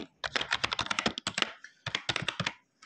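Someone types a password on a computer keyboard while setting up a Windows Server, with two quick bursts of crisp, close key taps separated by a short pause.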